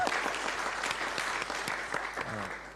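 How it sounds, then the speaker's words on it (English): An auditorium audience at a security panel gives a short round of applause, dense clapping that holds steady for a few seconds and then tapers slightly. "I actually would like to just start with a quick round of applause."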